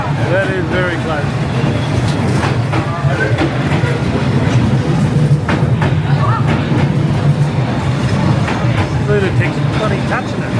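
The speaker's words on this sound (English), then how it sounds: "The guy is touching the train." A long train rolls past at very close range along Hanoi's narrow Train Street, a steady loud rumble with faint wheel clatter throughout, while people nearby talk over it.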